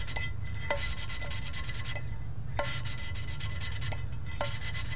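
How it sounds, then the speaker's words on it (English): Surfaces of a 327 engine being cleaned by hand, a steady close scraping rub with a few sharp strokes about every second, heard alone without talk. "You can definitely hear the sound change when those surfaces get nice and cleaned up."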